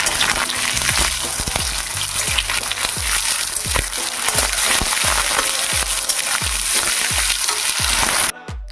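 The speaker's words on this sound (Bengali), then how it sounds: "এবার পেঁয়াজটা ভালো করে নেড়ে ছেড়ে মাছটা দিয়ে দিলাম" Fish and onions fry in a pan with a constant hiss, punctuated by regular scraping knocks of a utensil stirring, ending abruptly.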